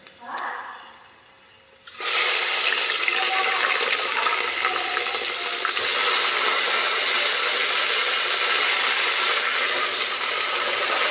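One and a half kilos of mutton drops into hot oil after a moment of quiet, bursting into a loud, sustained hissing sizzle that continues steadily without letting up.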